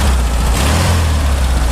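An air-cooled VW Beetle engine runs with a loud, steady low rumble and a slight rise in revs, heard up close with no talking.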